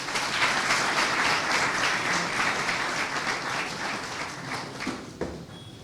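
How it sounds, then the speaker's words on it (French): Audience applause for a lecturer at a conference in Cameroon, a dense, loud wash of clapping that holds steady, then thins and tapers off near the end. "Je le présente et je vous prie de l'applaudir"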